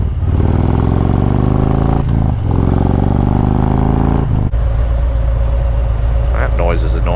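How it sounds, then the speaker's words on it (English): Engine noise from a Ford vehicle with a bad belt, loud and close, with rising and falling revving tones, brief dips, and a shift to a different rough, clattering drone partway through. "That noise is annoying. It's got a bad belt."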